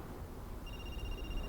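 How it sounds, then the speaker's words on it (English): A telephone rings in the horror video game Linger, a faint, thin tonal ring that starts midway through and sits over a quiet, hissy ambience. "I think I heard the phone going off in here."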